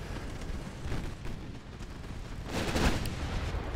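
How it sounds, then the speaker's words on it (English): Warship guns in the naval battle game Ultimate Admiral Dreadnoughts rumble in a dense, continuous barrage, with one heavier booming burst near the end standing out above the roar. "been a lot of shells exchanged on both sides"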